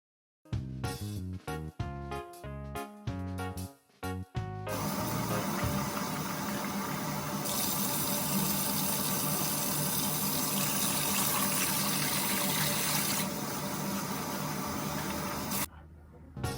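Water runs steadily from a tap while rice is washed, a loud, continuous close rush that follows a few seconds of rhythmic music and then stops abruptly near the end.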